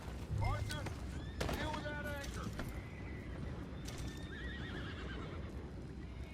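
Horses neigh and whinny repeatedly in the Red Dead Redemption 2 game world, with hooves clip-clopping and creaking gear under a steady outdoor background.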